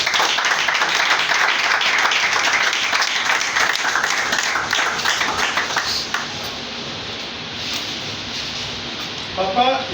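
An audience applauds as Papa Georges, a comedian honored at his retirement event, is invited forward; dense clapping fills the first six seconds, then fades into a softer patter with a few closing claps.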